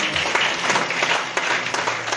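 Audience applause in a seminar hall, dense steady clapping from many hands sustained evenly throughout, near and fairly loud.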